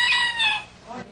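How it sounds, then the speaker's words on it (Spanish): A single rooster crow, loud and close, with a harsh drawn-out call that fades out after about half a second. "Este es el gallo que con su canto ha volcado la fe en Dios"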